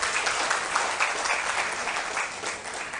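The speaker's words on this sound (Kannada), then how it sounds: "ಒಂದು ಜೋರು ಚಪ್ಪಾಳೆ ಕೊಡಿ ಅಂತ ಕೇಳ್ಕೊಳ್ತಾ ಇದ್ದೀನಿ" An audience claps steadily and loudly throughout, a dense, even wash of applause with no break.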